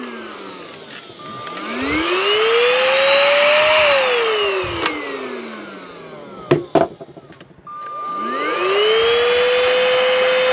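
A cordless stick vacuum cleaner with almost no suction, its motor whining as it spins up, holding a steady high drone, dipping and cutting out briefly with a few clunks, then spinning up again, loud and close.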